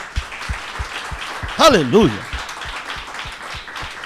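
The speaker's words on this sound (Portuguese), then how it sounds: "Por favor, dê um aplauso a Jesus." A church congregation at a worship service claps in a steady, even rhythm that carries through the moment. A voice briefly rises above the clapping in a loud shout.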